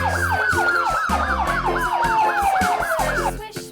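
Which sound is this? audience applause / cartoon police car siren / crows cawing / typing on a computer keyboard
cartoon police car siren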